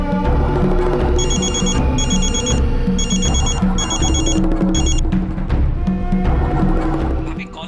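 Phone ringing with a repeating electronic ringtone in bursts, loud and close, with a musical backing underneath.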